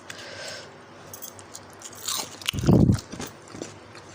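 A close, loud crunchy bite into crispy seasoned masala french fries, with softer crackling chewing before and after it; no talking.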